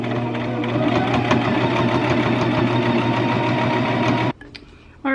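A sewing machine runs steadily while stitching a baby blanket, a dense continuous mechanical whir with rapid needle rhythm close by, then cutting off abruptly near the end before a brief restart.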